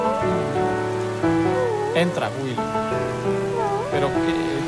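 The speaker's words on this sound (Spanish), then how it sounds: "¡Que está lloviendo a mares!" Heavy rain pours steadily beneath sustained music, with a voice speaking briefly partway through.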